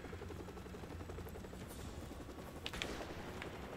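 A helicopter in Call of Duty 4: Modern Warfare Remastered whirs faintly and steadily in the background, with scattered gunfire bursts crackling over it near the end.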